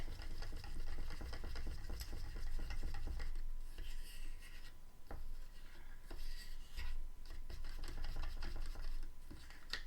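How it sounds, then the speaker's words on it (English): A brush or stirring stick swirls and scrapes through a small squirt of paint colour mixture in a cup, a continuous close scratchy rubbing with short pauses in rhythm. "And then I'm going to stir up my color."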